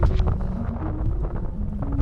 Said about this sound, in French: Presque 20 nœuds de vent, des creux de peut-être 3 mètres tirés là, parfois, mais assez agité.